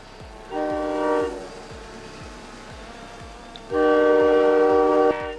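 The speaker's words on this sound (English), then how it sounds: "General Motors FP9 locomotives from the 1950s are utilized here for clearing snowdrifts." 1950s General Motors FP9 diesel locomotives clearing snowdrifts in winter sound two long, loud horn blasts over a low rumble, separated by a quieter pause.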